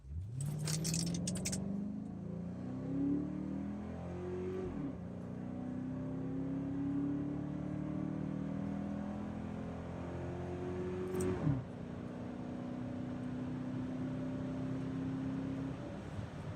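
A Jeep Grand Cherokee Limited 4x4 with the 5.7 Hemi accelerates hard from a stop on the Autobahn, its engine note climbing steadily through two gear shifts, heard from inside the cabin.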